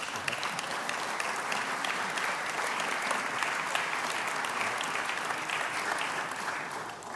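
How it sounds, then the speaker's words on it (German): An audience claps steadily at a conference talk with Sigmar Gabriel and Elon Musk in Germany, dense sustained applause filling the room at an even level for about seven seconds before easing slightly. "Den Beifall nehme ich Ihnen übel, klar"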